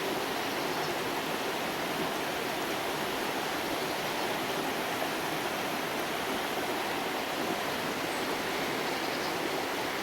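Clean water flows steadily in a stream along a nature trail, a constant, full rushing wash with no breaks and no voices.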